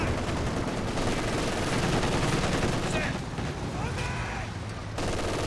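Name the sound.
MG42 machine gun fire in the video game Company of Heroes 2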